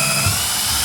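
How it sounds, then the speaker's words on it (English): A steady, whining power drill runs continuously at close range, drilling holes in PVC pipe, a high-pitched motor buzz with no pauses. "So I'm gonna try drilling them all."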